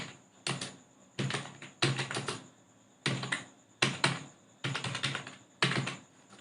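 Short bursts of clicky keystrokes on a computer keyboard come in quick runs separated by brief pauses, close and crisp with no talking.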